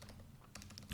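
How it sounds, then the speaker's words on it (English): Quiet keystrokes on a computer keyboard as a short command is typed, a few soft clicks scattered across a second with a slightly louder tap at the end, no voices. "so I could just type .NET"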